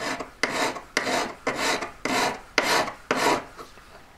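A metal file shapes the shoulder of a handmade three-stone ring in seven even, rhythmic rasping strokes, close and clear, with no voices.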